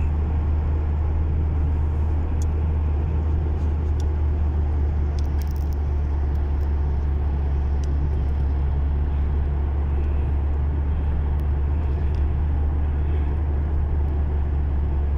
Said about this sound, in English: We are passing the tunnel going home.